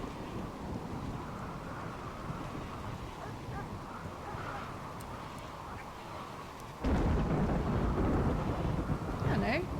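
A steady Rimworld thunderstorm with constant rain and rumbling, growing noticeably louder and heavier near the end, with no voices over it.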